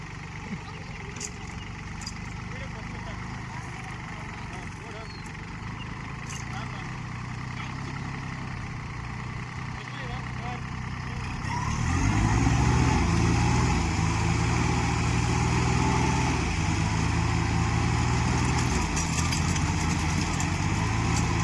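Farmtrac and VST 30 hp tractors run their diesel engines in a tractor pulling contest, a steady throb that grows louder and heavier midway as they rev, with people talking over it.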